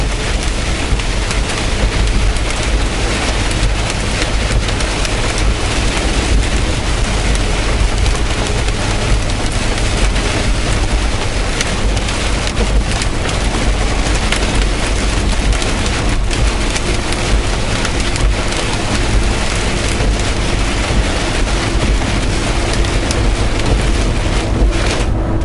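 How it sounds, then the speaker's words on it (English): Rain mixed with hail drums steadily on a loaded semi truck during a summer storm in Marathon City, Wisconsin, a dense, loud wash of impacts with scattered heavier thumps, continuous throughout with no talking. "That big thump thump, that's hail."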